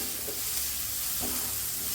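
Onions with added masala powder sautéing in a pan for a Kerala potato roast, a steady soft sizzle with faint scraping stirs near 0.3 and 1.25 seconds, no talking.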